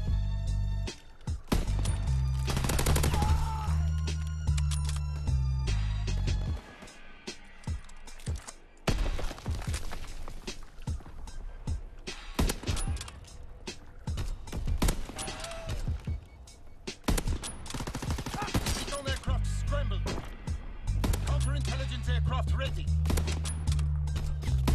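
Rifle shots crack out in Call of Duty WW2 from a Lee Enfield bolt-action, several sharp reports scattered among game noise and background music, with a player talking over parts of it.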